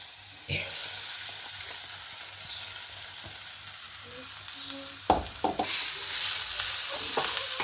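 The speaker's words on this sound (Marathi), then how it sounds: "हलवून घेते आता पोहे." Poha turned over in a hot kadhai with turmeric and salt, a soft steady sizzle broken by a few scraping spoon strokes toward the end.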